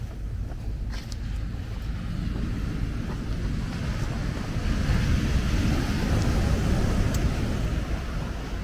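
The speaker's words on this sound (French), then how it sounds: "donc les vagues viennent jusqu'ici." Ocean waves roll onto the beach at Port-Bouët, Abidjan, in Côte d'Ivoire, making a continuous low rushing surf that swells slightly midway, mixed with wind buffeting the microphone.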